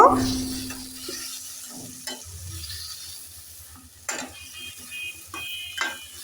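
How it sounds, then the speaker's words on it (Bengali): Beans and potatoes are stirred with spices in a pan, making scraping spoon strokes and a few sharp clanks over a low, intermittent sizzle. "এখন নেড়ে চেড়ে সব মশলার সাথে মিশিয়ে নেব"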